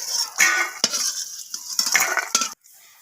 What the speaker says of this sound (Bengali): বড়িগুলোকে আমি লালচে করে ভেজে নেব